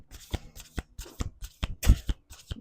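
Deck of cards being shuffled, a quick run of crisp riffling flutters and taps in uneven bursts, close and clear with no talking.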